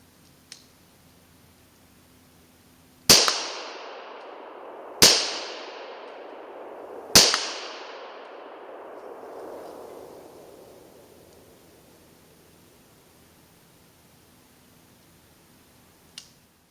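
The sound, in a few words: gunshots fired at night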